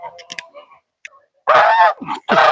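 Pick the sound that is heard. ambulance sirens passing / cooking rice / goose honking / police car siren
goose honking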